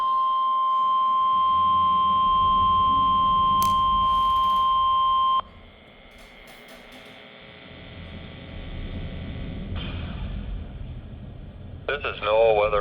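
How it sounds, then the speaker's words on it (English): NOAA Weather Radio test of the SAME (Specific Area Message Encoder) EAS system from the NWS Ruskin station: a loud steady alert tone holds for about five seconds, then a broadcast voice speaks, with a short warbling data burst near the end. "This was also a test of the same system or specific area message encoder."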